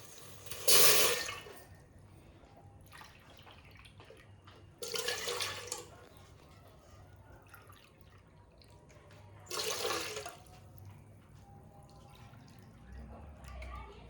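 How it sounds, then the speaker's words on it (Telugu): Water poured into a cooking pot in a home kitchen while making ganji dosa, heard as three separate splashing pours spaced several seconds apart, with quieter kitchen background between them. "ఇప్పుడు దీంట్లో కూడా మనం వాటర్ని యాడ్ చేసుకుందాం."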